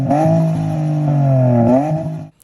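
A V35 sedan's V6 with a budget mid-mount turbo and uneven-length manifold runners revs up and then drops off. It gives a loud, steady, slightly irregular droning tone that cuts off at the end.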